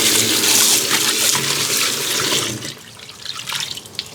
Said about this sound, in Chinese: 所以说我们要给它淘洗干净